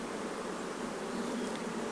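Honey bees in a hive opened during a queen cell inspection, a dense, even buzzing that holds steady from start to finish with no voices over it.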